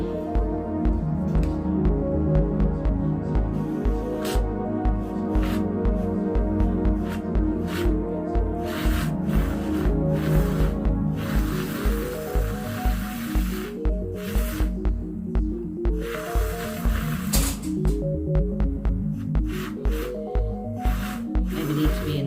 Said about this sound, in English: you are just testing up the hand whisk